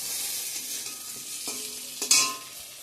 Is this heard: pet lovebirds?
no